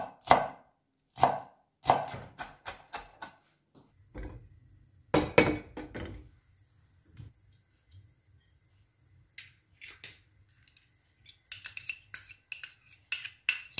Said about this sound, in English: Chop the parsley.